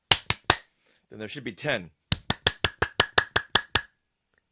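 Hand claps, three sharp ones, then a short stretch of talk, then a run of about ten evenly spaced claps, crisp and close with silence between each.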